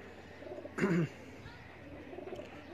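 A racing pigeon at a pigeon-flying competition gives a single short, soft coo close by, faint against a quiet outdoor background.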